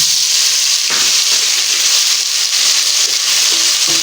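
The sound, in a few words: garlic ginger paste sizzling with browned onions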